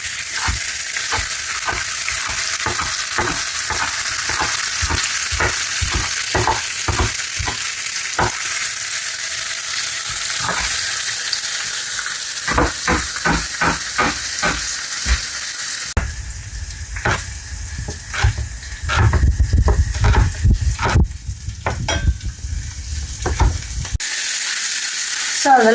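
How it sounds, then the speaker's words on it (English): Lardons sizzling and spitting in a hot pan, interrupted by a run of sharp scraping stirs, then a louder, denser crackle of frying in the later part. "The lardons are frying nicely."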